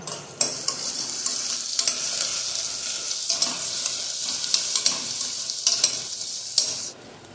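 Onion frying in a hot pan alongside ginger, garlic and chili paste, a constant close sizzle broken by frequent sharp scrapes and knocks of stirring, stopping abruptly near the end.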